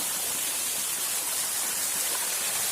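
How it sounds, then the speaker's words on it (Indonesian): Waterfall in the Ngarai Rakik canyon at Ladang Laweh, a steady, dense rush of falling water roaring close by without pause, with no voices over it. "Nah, ini ya sobat air terjunnya."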